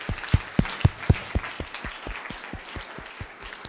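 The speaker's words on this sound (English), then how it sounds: "let's clap for all of the guys tonight" A small audience at an expansion forum prize ceremony claps together in a rhythmic round of applause, strongest at first and then thinning and fading as the claps slow toward the end.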